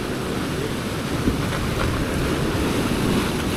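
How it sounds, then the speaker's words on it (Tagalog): Ocean waves wash steadily onto a shore during a beach fishing outing for giant trevally, a continuous loud rush of surf mixed with wind buffeting the microphone, with no talking. "malaki yung alon dyan"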